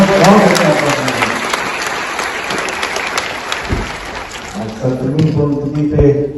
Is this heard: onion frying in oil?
no